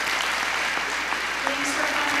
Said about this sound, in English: let's give John a round of applause